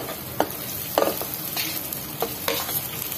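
Onions sizzle in hot oil in a pan for mutton kulambu, a steady soft crackle broken by several sharp scrapes of a spoon stirring at irregular intervals; no voices.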